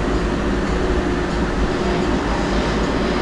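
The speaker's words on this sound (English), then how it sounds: "Tram is now approaching the Shops at Crystals." Bellagio tram running on its rails, a loud, steady rumble with continuous rolling roar and faint hum, close and unbroken for the whole stretch, with no talk.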